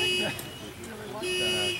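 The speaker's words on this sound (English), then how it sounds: "And now we have a car alarm going off." Car alarm going off at a 2016 outdoor event, sounding as a steady electronic tone that drops out briefly and returns, heard at a moderate distance beneath nearby talk.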